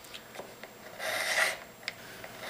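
A hand file rasps across the button of a pipe stem, the tape on the stem still in place, giving one sustained close stroke of rough scraping with a few lighter rubbing touches before and after.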